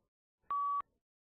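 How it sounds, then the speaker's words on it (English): A single short electronic tone marks the start of a response window in the Versant Aviation English Test, a clean steady beep lasting about a third of a second, heard alone in silence. "When you hear this beep"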